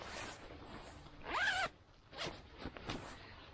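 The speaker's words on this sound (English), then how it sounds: "it's a double zipper, so we've got one on the outside and one on the inside" A double zipper on the bottom of a Valhalla Nightwalker wearable sleeping bag opens in several short, close zipping pulls, one longer rasp in the middle followed by quicker tugs.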